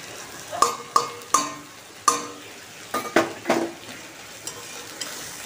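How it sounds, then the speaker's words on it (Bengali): Ground mustard paste is stirred into hot spiced oil in a pan for a fish curry; a spoon knocks sharply against the pan several times over a soft frying hiss, close and without talk. "এইবার এর মধ্যে দিয়ে দিচ্ছি এই বেটে রাখা সর্ষেটা।"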